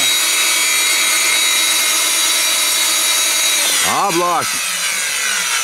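A handmade KJ66 gas turbine jet engine spinning down, a steady high whine with tonal lines that drop away, then the bearings give a brief wavering, rising-and-falling tone near the end, with a short spoken remark over it.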